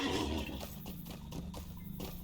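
Horse hooves clip-clopping in the video game LOTRO, a quick run of close, distinct hoof beats with a brief whinny-like sound at the start, and no talking.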